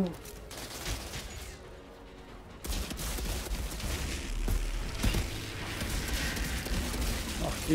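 Sniper and rifle fire in the video game Outriders, delivered as scattered sharp shots and bursts over a busy combat soundscape with game noises, while someone talks over it.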